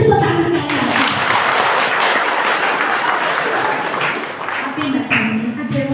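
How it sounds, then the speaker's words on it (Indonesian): A church congregation at a Christmas service at GKJTU Manunggal Ngaduman claps in a sustained round of applause, dense and close, with a speaker's voice and some crowd voices over the clapping as it tapers. "Beri tepuk tangan sekali."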